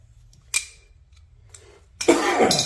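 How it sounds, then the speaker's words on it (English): A sharp, close cough, then a pause and a longer, harsher burst of coughing. "Oh, can't stop coughing."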